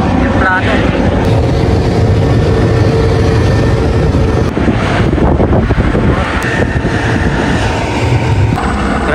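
Aircraft at a snowy airport, a steady loud engine roar with heavy wind noise throughout, broken by brief bursts, with a voice talking over it.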